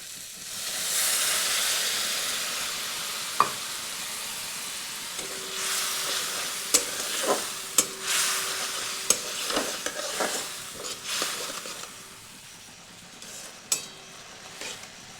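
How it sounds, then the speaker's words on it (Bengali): Tomato spice masala with added water bubbling and sizzling in a pan for pasta, a continuous close hiss broken by occasional sharp spoon taps and stirring scrapes, no voices. "এটিকে কিছুক্ষণ ফুটিয়ে নেব, যতক্ষণ না টমেটোটা গলছে"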